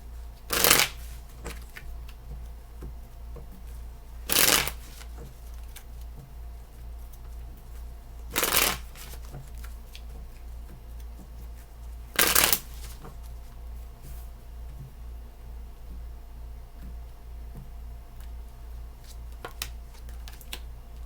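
Tarot cards are shuffled in four quick separate bursts, each a sharp riffling flutter close by, with quiet room tone between them.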